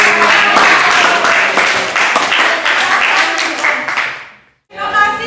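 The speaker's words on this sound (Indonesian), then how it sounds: "Berikan tepuk tangan yang meriah" Classroom applause after a student group finishes its presentation, a dense burst of clapping that fades out over several seconds before a voice begins speaking.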